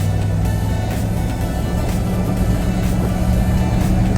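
A 1994 GMC Sierra Z51 4x4 pickup truck engine hums steadily while driving, a loud, constant low drone heard from inside the cab, with no talking.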